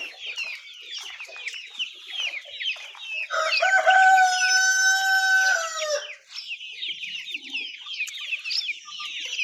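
Roosters and hens in a mixed farm flock keep up busy clucking, and one rooster breaks in with a long, loud crow partway through before the clucking carries on.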